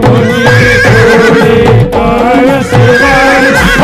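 A horse whinnies loudly and repeatedly in a close, sound-effect style, with wavering high calls over faint clip-clop hoof beats and no talk.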